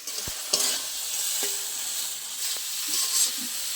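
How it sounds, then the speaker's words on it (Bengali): Prawns frying and being stirred in a hot pan: a steady sizzle with a few sharp scraping clinks of the spatula against the metal, close and alone with no voices. "আমি চিংড়ি মাছটা বেশি সময় ভাজবো না, এটা জাস্ট 30 সেকেন্ড ভেজে নিলেই হবে।"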